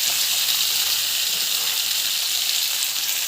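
Onion and tomato sizzle steadily in a pan for chutney, a dense, close frying hiss that holds at an even level from start to end with no talk.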